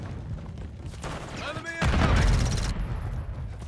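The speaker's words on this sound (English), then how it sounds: "God, I love my grenade launcher." Video game combat with a grenade launcher firing, a heavy booming blast and a dense burst of gunfire and explosion noise in the middle, loud and close, with game voices around it.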